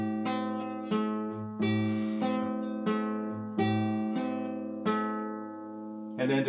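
Fingerpicked guitar with the 3rd and 5th strings pinched together, a steady pattern of plucked notes and pinches ringing into each other over about six seconds, close and clear with no voice.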